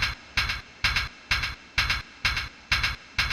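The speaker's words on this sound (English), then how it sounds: "we have the second hi-hat, which does not have any effects on it." Short, bright, unprocessed hi-hat hits with no effects repeat in a steady, evenly spaced pattern, each crisp and noisy with a quick decay, sounding alone without talk.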